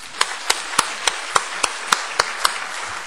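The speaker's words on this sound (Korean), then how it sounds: "우리 박수로 환영해 드립니다." A church congregation claps in unison to welcome new members, about eleven crisp, evenly spaced beats at a brisk steady tempo over a quiet background.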